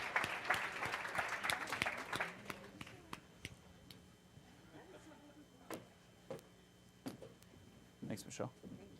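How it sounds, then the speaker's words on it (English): Audience clapping at a health institute event as a door-prize winner comes on stage, a burst of applause that thins into scattered claps with cheers and voices mixed in. "A round of applause."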